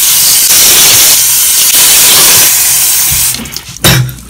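Spoon tape pen rinsed under a running bathroom tap, a loud steady hiss of flowing water with splashy surges, ending in a few brief bursts as the stream is interrupted.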